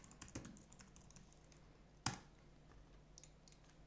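Typing on a computer keyboard, with sparse quiet key clicks and one sharper, louder keystroke near the middle, close by in a quiet room.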